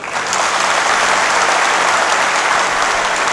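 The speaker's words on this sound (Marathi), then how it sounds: "आता फक्त तुम्ही टाळ्या वाजवा" Women in the audience at a guidance camp clap together in a loud, dense burst of applause that holds steady for several seconds.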